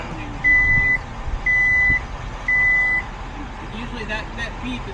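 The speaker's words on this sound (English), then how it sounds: "Usually that beep is what it does before it starts to" A Genesis car gives three even warning beeps, steady mid-pitched tones about a second apart, set against rain noise and a faint hum.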